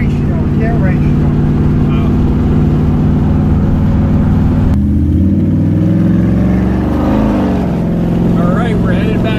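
A 1957 Chevy Bel Air V8 with a 3.60-geared 9-inch rear end idles with a deep, steady rumble, then revs and settles, loud and close, while people talk.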